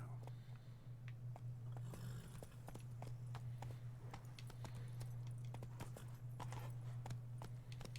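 Roach the horse walking in a video game, steady rhythmic clip-clop hooves striking at an even pace, close and clear over a low droning hum.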